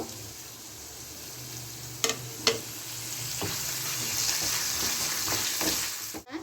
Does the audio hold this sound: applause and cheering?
no